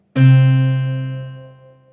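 A single plucked string note, a C, rings out clearly and decays slowly over about two seconds, alone and close.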